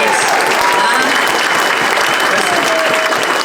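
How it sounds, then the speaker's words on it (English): Audience applause fills a packed comedy club as the crowd claps for the wait staff: a dense, loud, steady wash of many hands clapping that holds for several seconds without letting up. "how about a round of applause for your wait staff working hard for you tonight?"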